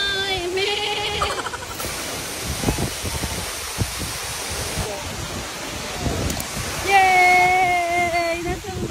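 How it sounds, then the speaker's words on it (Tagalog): Broad rushing roar of a mountain waterfall fills the whole stretch, steady and close, with people talking and calling out over it and a brief whistle-like tone near the end. "Napakaganda ng falls."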